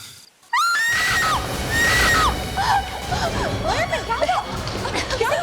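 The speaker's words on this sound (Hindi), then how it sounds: "चीखने की आवाज आई।" Loud, high, shrill screams ring out from a woman in a horror drama scene, several piercing wails in a row over agitated voices and commotion.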